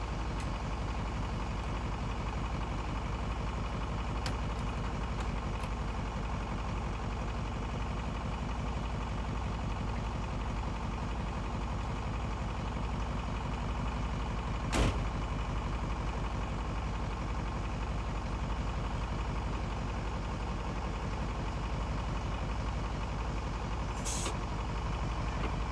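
A 1988 Ford cabover truck idles steadily as it backs out of a driveway, a low constant engine rumble with a brief sharp hiss midway and another near the end, no talking.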